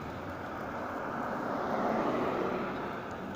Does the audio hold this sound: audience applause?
no